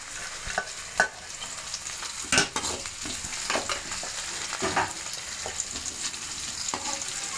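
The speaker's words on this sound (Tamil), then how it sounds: "பூண்டு ஃப்ரை பண்ண போகிறோம்" Garlic frying in oil in a pan, just after mustard seeds have popped, for a Tamil shark puttu fish dish: a steady close sizzle with intermittent scraping stirs and a few sharper spatula knocks.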